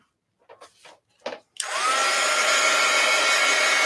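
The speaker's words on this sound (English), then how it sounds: "Heat gun alert." A heat gun drying freshly made postcards switches on after a few brief rustles and then blows with a loud, steady roar that stays constant to the end.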